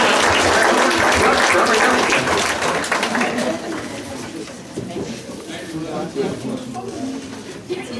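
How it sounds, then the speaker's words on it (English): Loud crowd applause at a speedway awards banquet, dense at first and then thinning and fading over several seconds, with voices mixed in. "Give him a nice round of applause."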